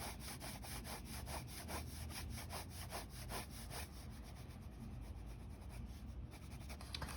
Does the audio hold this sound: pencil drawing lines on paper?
yes